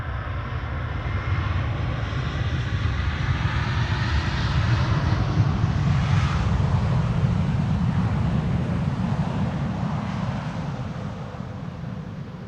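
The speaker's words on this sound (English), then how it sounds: "TUI returning from Curaçao, flight 365, 7878 Dreamliner." TUI Boeing 787-8 Dreamliner landing on the Polderbaan runway at Amsterdam Schiphol, a steady broad jet engine roar that stays loud throughout and swells slightly toward the middle as the aircraft passes.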